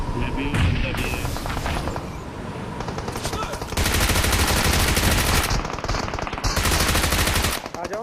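Automatic rifle bursts and rapid gunfire ring out in the mobile battle royale game BGMI, loud and continuous in dense volleys with brief gaps, while a player talks over the shooting.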